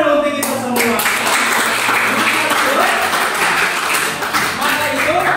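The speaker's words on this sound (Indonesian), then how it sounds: "Tepuk tangan dulu untuk kita semua." A classroom of students clapping together during a teaching session, dense and loud, filling the room continuously, with a teacher's voice heard briefly near the start.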